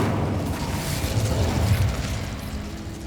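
Incendio fire spell in the video game Hogwarts Legacy, a sustained loud rumbling roar of flame and impact noise with a heavy low-end boom that swells and slowly fades over about three seconds, no voices.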